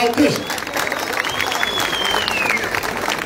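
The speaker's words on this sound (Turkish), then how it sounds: "şöyle bir alkış istiyorum" Crowd claps at an outdoor wrestling festival, a broad wash of applause lasting the whole clip at moderate distance, with an amplified announcer's voice and a faint whistle-like tone riding over it.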